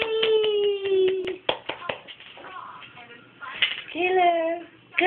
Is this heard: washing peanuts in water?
no